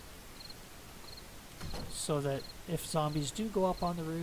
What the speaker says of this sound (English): You can hear the crickets chirping in the background